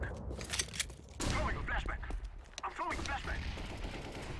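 Gunfire rings out in a first-person shooter match, with rapid bursts of shots and short pauses between them, mixed with game effects and some speech.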